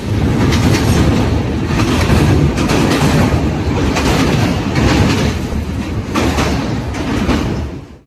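Puri Superfast Express on the Howrah to Bhubaneswar run, heard from on board as it rolls along, a loud continuous rumble with rhythmic clickety-clack of wheels over rail joints.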